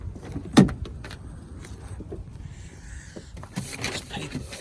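Car keys jangle close by, one sharp metallic rattle followed by lighter clinks as a key is worked off a ring beside a Chevrolet Monte Carlo bought at auction, with faint handling noises around it.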